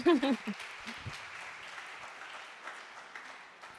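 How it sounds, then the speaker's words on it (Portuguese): Audience applause at a Christian discussion session on emotions, a brief voice at the start and then a steady, moderately quiet wash of clapping that slowly thins out. "Palmas."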